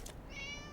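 A cat gives a single short, close meow, clear and alone over faint background noise.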